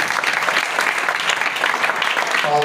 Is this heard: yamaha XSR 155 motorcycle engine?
no